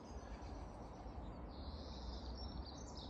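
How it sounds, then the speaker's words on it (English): Birds chirp faintly on a quiet Sunday morning outdoors, high thin calls rising over a steady broadband wash of background noise. "Birds are chirping."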